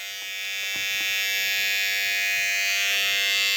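A Wahl Pro Series Skeleton trimmer runs alone in a steady, high-pitched electric buzz, close and constant for a few seconds with no speech over it.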